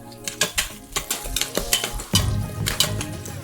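Cumin seeds, mustard seeds and chopped green chillies fry in hot oil, giving sharp, irregular crackling pops and spits over a low background rumble, with a few louder bursts close by.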